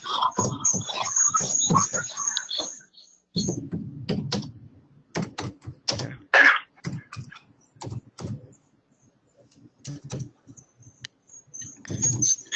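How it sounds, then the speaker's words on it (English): Bursts of keyboard typing, quick clicks in uneven runs with pauses, alongside some nearby talking. "I'm typing."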